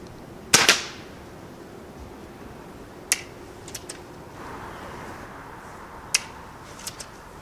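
A Gamo Whisper Fusion Elite air rifle fires pellets, one sharp crack followed by two fainter shots spaced a few seconds apart, with small clicks of handling between them.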